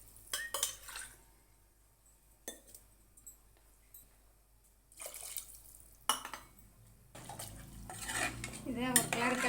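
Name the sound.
stirring rice and chicken biryani in cooker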